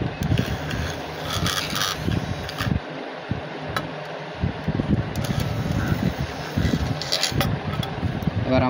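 An LCD repair cleaning machine runs with a steady mechanical hum, like a fan, holding at moderate loudness throughout, with a few brief pauses and some faint background noise.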